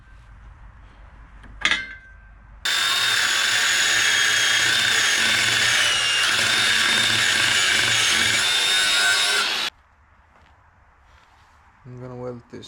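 Power tool cutting through the steel bash bar of an old Suzuki Grand Vitara, a loud, steady high-pitched whine lasting about seven seconds, with brief handling clatter before and after.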